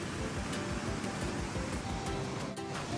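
Waterfall at Kakkadampoyil in Kerala, a dense, steady roar of rushing water, constant and enveloping without breaks.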